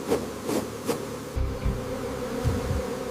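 Bees swarming and buzzing around a hive being calmed with steady smoke, a continuous insect drone with a few louder passes up close and some low rumbling and handling noise partway through, with no talking.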